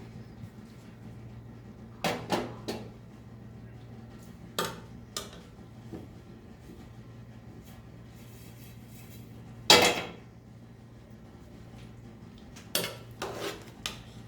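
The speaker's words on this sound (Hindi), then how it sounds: "अब इसे डिश आउट करते हैं।" Metal spoon scraping and clinking against a pot as zarda sweet rice is served out, a few sharp knocks in small clusters with one louder clang, set against a quiet kitchen background.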